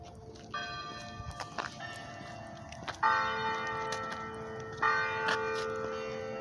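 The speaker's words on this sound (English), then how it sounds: "For whom the bell tolls." Church bells ring out in overlapping, layered strikes, with louder fresh peals landing around the middle and again near the end, their ringing tones sustaining into a continuous wash.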